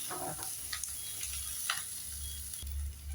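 Onions sautéing with salt in a pan for chilli paneer, a bright steady sizzle with occasional spatula scrapes and a low background hum, close by and without talking.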